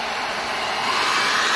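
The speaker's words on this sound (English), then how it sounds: "So what you want to do is get a hairdryer." A hair dryer blows steadily into the air vent of an Amazon Fire TV, a loud, continuous close-up whoosh that swells slightly toward the end.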